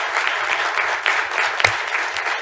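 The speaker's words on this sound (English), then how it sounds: "let's just all give him a round of applause and thank him for his help" Brief round of applause from attendees at a township board of commissioners meeting, marking a birthday, an even patter of many hands with one sharper clap or knock near the end.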